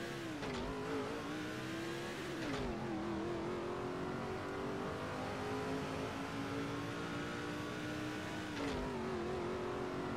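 Craftsman Truck Series race truck engine in the NASCAR 06 racing game, a steady droning motor with a few brief pitch dips and swells as it shifts and revs, sustained and close with no talking.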